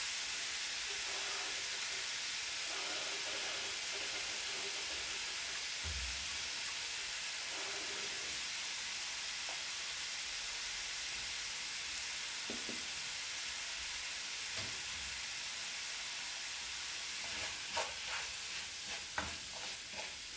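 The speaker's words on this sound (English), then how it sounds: "Mix it thoroughly so the meat is well coated in the paprika. Sauté it well" Beef coated in paprika sautés in a pan with a continuous soft frying hiss, broken by scraping stirs and a few sharper knocks of the spoon toward the end.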